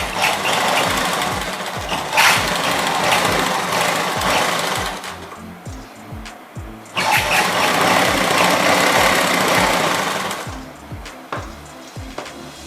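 A sewing machine runs in repeated bursts while stitching a one-piece dress at a 1.5 inch seam margin, its rapid mechanical needle chatter loud and close, pausing briefly around the middle before resuming, with no talk.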